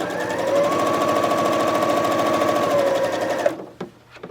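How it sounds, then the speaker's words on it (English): A sewing machine stitches a quilt block on the diagonal, a loud, steady rapid needle rhythm running for about three and a half seconds before stopping, followed by a few small clicks. "I'm going to sew on the diagonal"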